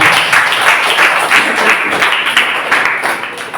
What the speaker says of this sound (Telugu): సార్ అందరూ కూడా చప్పట్లు కొట్టేసారు